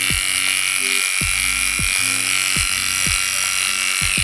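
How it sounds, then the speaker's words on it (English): A cordless hair clipper running in a barbershop, a loud steady high buzz close to the listener with a low pulsing hum underneath, and no one talking. "That's a clipper and a half, isn't it?"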